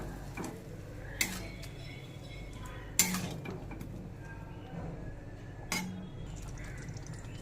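Vegetables being stirred with spices in a cooking pot for a rohu fish curry with papaya, a few sharp clinks of a utensil against the pot over a quiet, steady background, no talking.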